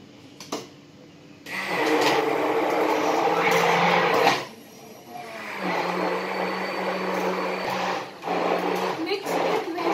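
An electric mixer blends a banana milkshake with sugar, whirring steadily in two long bursts with a short pause between, close and fairly loud, while a voice speaks over it.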